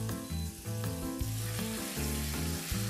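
Vegetables for a meatloaf sweat down in a hot pan, giving a continuous low sizzle under steady background music.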